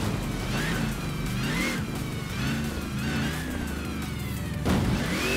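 A tuned 7-litre V8 car in Forza Horizon 4 revs and pulls hard, its engine note rising and falling through gear changes, loud and close with a brief harsh surge near the end.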